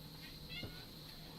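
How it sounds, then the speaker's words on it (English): Biscuit the cat gives a single short, faint meow over steady background hum, close by and quiet. "that's the cat."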